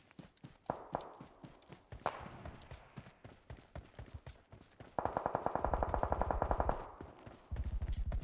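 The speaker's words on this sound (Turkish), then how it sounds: "Sağdan sıkıyorlar" Rapid bursts of automatic gunfire and steady footsteps in PUBG Mobile, the shots crackling in sharp volleys that grow denser and louder toward the end, with faint talk underneath.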